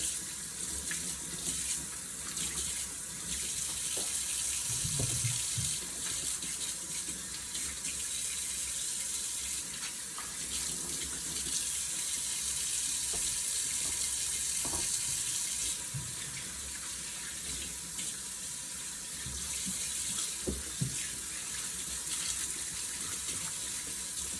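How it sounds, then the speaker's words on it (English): Carrots rinsed under a running kitchen tap, a steady close stream of water hissing into the sink with occasional light clunks and splashes as they are handled, no voices. "So I'll simply wash those carrots down the same way."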